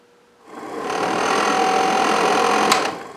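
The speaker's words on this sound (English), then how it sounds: "And the fan just sounds horrible." The heater fan of a Triumph Spitfire sports car whirs up after a switch, a loud steady buzzing drone that runs for a few seconds with a slight rattly edge before cutting off, close by and heard alone.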